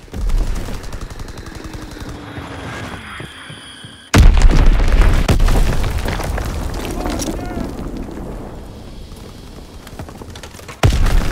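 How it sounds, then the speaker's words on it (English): A heavy bomb blast booms in a Call of Duty: WWII online match, a sudden loud explosion midway followed by rumbling battle noise and scattered gunfire, with another sharp hit at the end. "Enemy bomb incoming. Get to cover."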